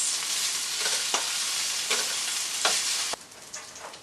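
Salmon and other ingredients sizzle steadily in a hot pan, a continuous close frying hiss broken by a few soft scraping stirs, with no voices.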